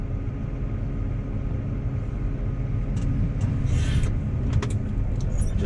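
A big 7040 tractor towing a slurry tanker rolls past on the road, its engine a steady low rumble and drone that holds loud and close throughout, with a few brief higher rattles and clanks near the end.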